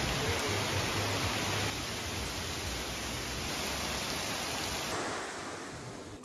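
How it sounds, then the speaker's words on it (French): Heavy tropical rain pours down in Zanzibar, a dense, steady hiss of drops on surfaces that holds constant, with no voices over it. "Je suis le seul mec qui va s'extasier devant de la pluie."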